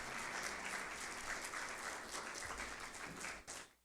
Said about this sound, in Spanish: Dale una ofrenda de palmas a Dios por esas herramientas que nos ha dado.